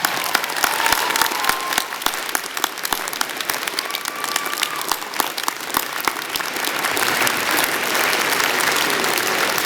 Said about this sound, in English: Let's give your supporters a huge round of applause